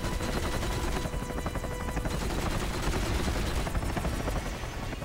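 A helicopter in the James Bond 007: From Russia with Love video game, a loud continuous rapid rotor chop throughout, with bursts of gunfire mixed in.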